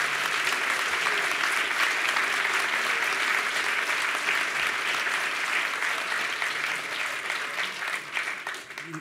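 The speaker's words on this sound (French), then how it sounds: "Ouais, on peut les applaudir." Steady applause from a large crowd for librarians at a prize ceremony fills the room, loud and sustained throughout, tapering slightly near the end.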